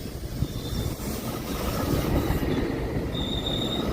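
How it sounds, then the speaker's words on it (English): A train rumbles past close by, a steady low roar of wheels on rails with faint high squeals rising near the end. "Here comes the train, guys."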